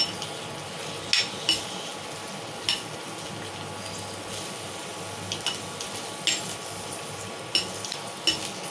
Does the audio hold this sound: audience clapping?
no